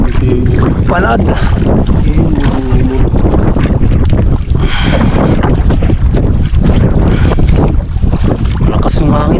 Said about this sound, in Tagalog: Lakas ng hangin mga tropa.